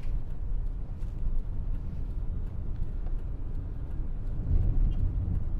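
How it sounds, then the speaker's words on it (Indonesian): Car driving through Surabaya city streets with many roads closed, a steady low engine and road rumble heard from inside the car, fairly quiet, with no talking. "Jadi ini keliling numpak mobil"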